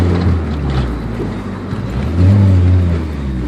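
A lowered car with a B-series engine drives down the road, its engine drone steady and close with a swell of revving partway through.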